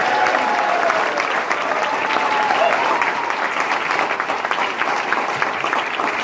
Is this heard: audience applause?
yes